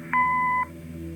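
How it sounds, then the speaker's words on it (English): Answering machine beep in the video game Kathy Rain, a single clean electronic tone lasting about half a second, clear and alone over a low steady hum. "Leave a message after the beep."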